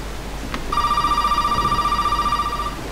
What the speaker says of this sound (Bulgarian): Някой звъни.